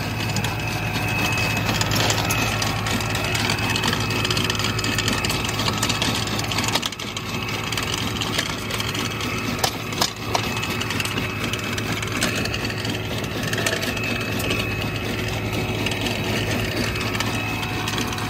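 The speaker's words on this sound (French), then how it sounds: "Le tracteur il roule tout seul lui." A tractor engine runs in a leek field with a steady, dense mechanical drone and a low hum, continuous and fairly close, with occasional knocks and no talking.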